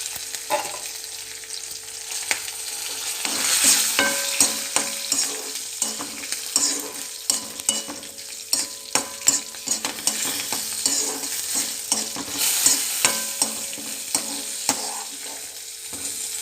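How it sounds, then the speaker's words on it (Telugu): Three green chillies and two dried red chillies frying in a pan for a bottle gourd chutney, with crackling sizzle and frequent scraping and clattering stirring strokes, close and without talk. "దోరగా వేగాలి."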